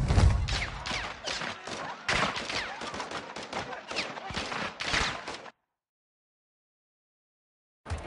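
Dense bursts of automatic gunfire ring out in Call of Duty: Modern Warfare II, rapid shots clustered in loud volleys for several seconds before cutting abruptly to silence.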